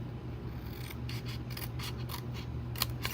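Scissors snipping through paper to shape a treat box lid, a series of quiet, close, crisp cuts and rasping slides in a steady rhythm, with no talk.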